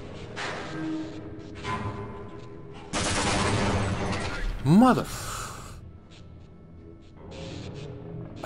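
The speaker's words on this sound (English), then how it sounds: "I'm gonna shoot that exploding thingy." A shot fired at an explosive object in Half-Life: Blue Shift sets off a loud blast, surrounded by game noise and a voice talking.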